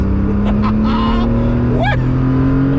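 A 1982 Porsche 911SC flat-six engine accelerating, a loud, steady, close drone whose pitch climbs gradually, with brief faint voice-like sounds over it.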